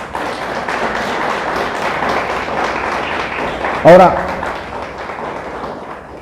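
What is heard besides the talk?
congregation applauding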